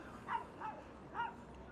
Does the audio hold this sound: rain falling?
no